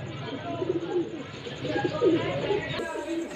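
Rampuri pigeons coo in soft repeated throaty bursts close by, with someone talking over them.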